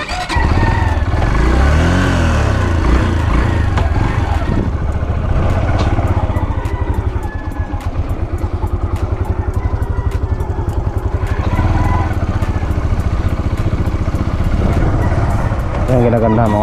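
A motorcycle engine drones and pulses steadily while it is ridden along a rural road, loud and close, with someone talking over it for much of the ride.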